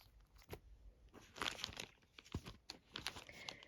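Close, quiet crinkling and rustling of an Easter parcel's wrapping as it is unpacked, with irregular soft crackles and crunches and no speech.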